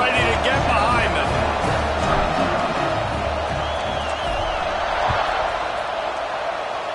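Football stadium crowd roaring steadily just before a kickoff, a dense continuous wash of cheering and whoops that fills the whole stretch without pause.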